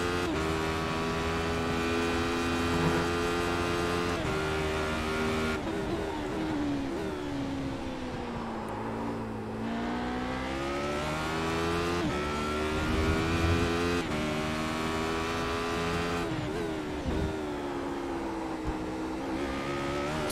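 A Radical race car in iRacing revs hard through its gears for about twenty seconds. The engine note climbs and drops with each shift and stays loud and close, with no talking over it.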